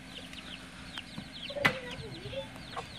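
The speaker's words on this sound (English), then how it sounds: "Today is when I just showed the chickens, the rooster." A rooster and hens cluck softly in a backyard, with short chirpy calls scattered over a quiet background, fairly distant, with one brief louder flutter partway through.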